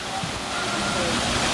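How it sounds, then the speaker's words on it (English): A waterfall gives off a steady, broad rush of falling water with people talking over it during a short stretch. "Nice waterfall."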